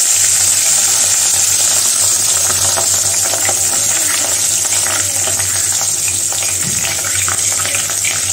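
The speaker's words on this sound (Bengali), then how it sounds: "এখন মাছটা ভেজে নিব প্রথমে।" A large tail piece of a 5 kg catla fish fries in hot oil in a home kitchen, a loud, steady sizzle and crackle that carries on unbroken, with small spatters and a faint hum beneath.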